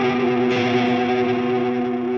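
An electric guitar runs through a whammy pitch-shift effect on a TC Electronic Plethora X5 pedal, a sustained chord with a shifted tone blending over the dry signal, distorted, steady and close, with no talk.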